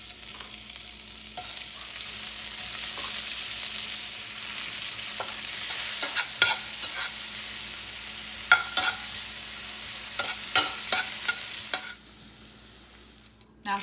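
Vegetables fry in the pan left from cooking a steak, giving a steady, fairly loud sizzle broken by scattered scraping and tapping of a utensil, before the sound cuts down near the end, without speech.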